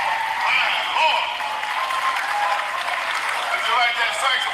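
A church audience applauds a gospel band, with steady, moderately loud clapping and cheering filling the room while someone talks over it.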